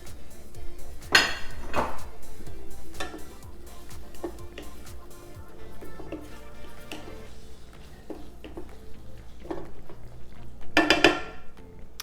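Strained, rinsed canned pinto beans go into a pan with clinks and knocks of utensil against metal, including a few louder clatters among softer taps, with no talking.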